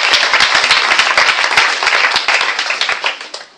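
A church congregation applauding loudly for Jesus Christ, many hands clapping together in a dense, continuous burst that tapers off toward the end.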